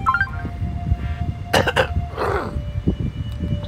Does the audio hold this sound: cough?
yes